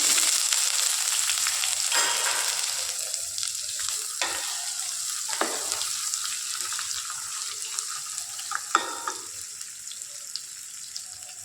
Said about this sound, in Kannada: ಕಡಲೆಬೇಳೆ ಉದ್ದಿನಬೇಳೆ ಚೆನ್ನಾಗಿ ಫ್ರೈ ಆದಮೇಲೆ ಈರುಳ್ಳಿ ಹಾಕ್ಕೊಳ್ತೀನಿ